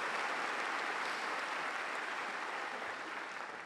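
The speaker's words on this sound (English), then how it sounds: "Let's have a round of applause for these individuals." A large audience at a Auburn University summer graduation ceremony applauds steadily, a dense wash of clapping from a big hall that holds an even level throughout and fades slightly at the end; no speech over it.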